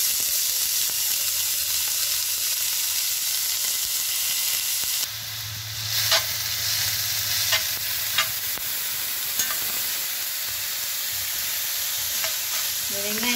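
Chopped onion and garlic sizzle steadily in hot oil for a Kottu Parotta base, a close, continuous frying hiss broken by a few sharp stirring scrapes, with no voices over it.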